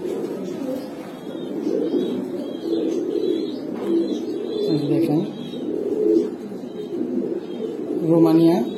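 Imported Giribaz pigeons, including ringed birds, coo close by in low, repeated rolling calls, while someone speaks over them.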